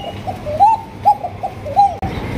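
Male pigeon cooing close by in a few rounded, swelling calls, with a breathy murmur beneath and a short pause between calls.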